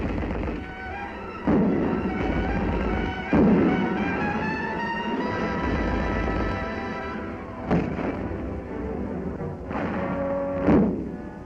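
Repeated booming thuds and sharp blasts of simulated battle fire from primacord, Dago bombs, firecrackers, rockets and nitrostarch blocks, irregularly spaced, over a droning background of engines and music.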